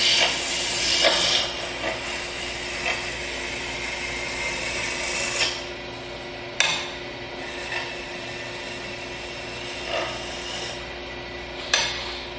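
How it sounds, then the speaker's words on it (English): A wood spindle turning on a lathe while a roughing gouge cuts it, a continuous rasping, scraping hiss with a few sharper catches, close and steady with no talk. "You really can get a damn good finish just from a roughing gouge"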